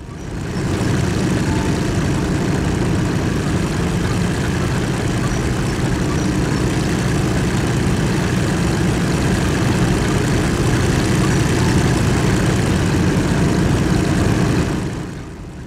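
The engine of a WW2 Tiger I tank drones steadily for about fifteen seconds, a heavy, continuous low rumble with a rough mechanical texture. It is loud and close, with no voices, and fades at the very end.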